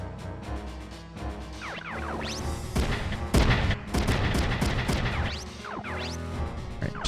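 A missile strikes a mech in the Front Mission video game: loud crashing impacts and rapid gunfire-like bursts, with a heavy blast near the middle and clattering debris trailing after.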